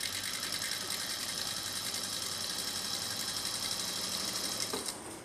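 A sewing machine stitches fabric in a steady, fast mechanical whir with rapid rhythmic ticking, running continuously close by before slowing to a stop at the end.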